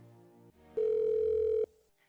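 Telephone ringback tone during a call in a Hindi film: a single loud, steady electronic tone lasting under a second after a brief quieter lead-in, then fading out.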